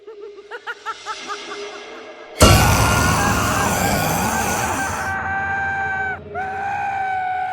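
A man screams again and again in a Hindi horror story, the loud, harsh cries sustained for several seconds. Shorter bursts and a musical or effects bed come before and after them.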